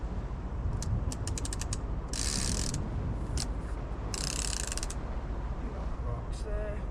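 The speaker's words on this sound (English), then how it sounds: "Put your ratchet on loose." Old fishing reel ratchet clicking while fishing at Barry, rapid bursts of close metallic ticks separated by pauses, over steady outdoor wind noise.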